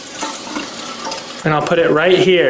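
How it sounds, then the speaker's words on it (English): Tap water runs into a container, a steady rushing pour that grows louder and fuller partway through, under a man's speech. "So I'm going to turn on the tap water and I'm going to divert it"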